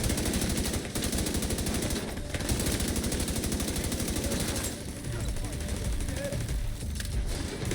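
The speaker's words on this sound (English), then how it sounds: "did you count those shots? I missed some shots just then." Rapid automatic gunfire from a turret fight in The Division 2 hammers almost without pause, with brief gaps between loud bursts, under steady game noise and occasional talk.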